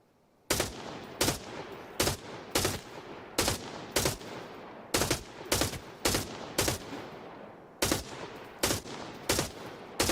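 Rapid video game gunfire: about twenty loud, sharp shots in quick bursts with short gaps, each crack trailing into a noisy reverberant tail, continuous over ten seconds.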